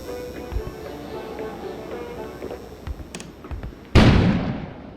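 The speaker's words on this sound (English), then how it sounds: "An explosion suddenly occurred outside." Explosion outside in the video game Kona, a sudden loud broadband boom near the end that decays over about a second, following quieter ambient game sounds and scattered knocks.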